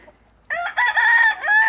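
A rooster crows loudly and close by, one long drawn-out call with a rising start and a wavering, sustained middle.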